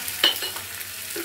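Boiled potatoes and soya chunks fry in a pan as a spoon stirs them, giving one sharp scrape near the start followed by a soft, steady sizzle with faint clinks.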